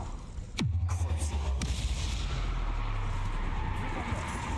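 Incendio fire spell cast in Hogwarts Legacy: a sharp whooshing burst followed by a deep rumbling roar, with a second swishing burst that sustains into a loud, close fiery rumble.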